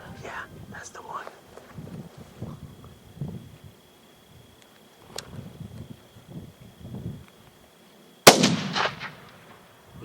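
A single sharp, loud rifle shot fired while hunting elk or antelope in open country comes late, after quiet whispered talk and rustling.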